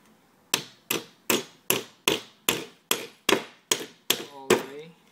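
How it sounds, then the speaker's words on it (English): A hammer drives an expansion bolt into a wall with eleven sharp, evenly spaced taps, each ringing briefly before the next, the last strike sounding slightly duller. "and you need a hammer."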